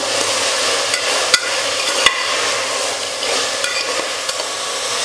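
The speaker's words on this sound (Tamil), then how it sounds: "சேனக்கிழங்கு சேர்த்ததுக்கப்புறம் 1 நிமிஷம் நல்லா எண்ணெயிலேயே காய வதக்கிக்கலாம்." Elephant foot yam pieces frying in hot oil give a steady, fairly loud sizzle, broken by a few sharp clinks of a spatula stirring them in the pan, with no voices.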